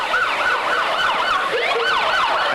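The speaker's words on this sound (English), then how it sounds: "I hear sirens." An emergency siren wails in a steady, repeating up-and-down sweep, loud and continuous with a faint road hum underneath and no talking.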